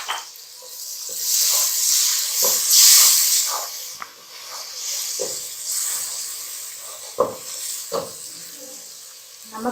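Turmeric, red chilli and coriander powder masala sizzles and hisses in a pan after splashes of water are added, the steamy frying noise swelling and fading, punctuated by a few sharp stirring clicks.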